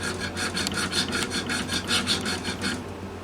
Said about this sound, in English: I'll start sanding now.